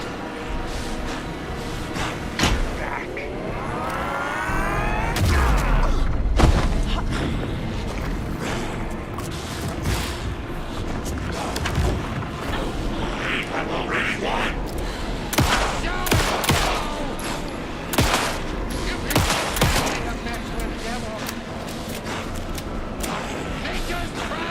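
Gunfire in the video game Alan Wake 2, repeated sharp shots and bursts scattered across a tense, rumbling scene, with characters talking in between and a rising whine partway through.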